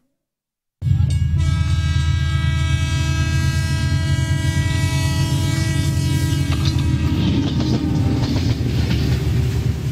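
A train at Hyderabad railway station in Sindh rumbles loudly and steadily after a brief silence, its deep low hum carrying sustained tonal whines and occasional clanks throughout.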